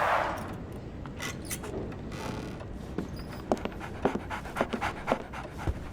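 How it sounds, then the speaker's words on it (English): A dog pants rapidly and close by in the Sherlock Holmes The Awakened video game, quick rhythmic breaths that grow clearer and stronger in the second half over a low ambient rumble. "So, Barnes has a dog now."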